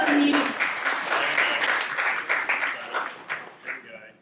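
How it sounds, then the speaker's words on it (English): An audience at a London Tableau user group meetup claps in a dense, close burst of applause that thins out and fades over a few seconds. "So, yes, 1 round of applause."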